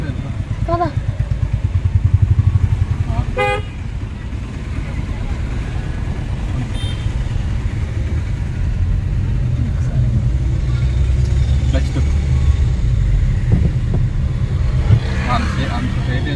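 A car engine drones steadily while driving on a highway, with a few clicks and shifts as gears are changed; the low rumble stays loud and continuous throughout.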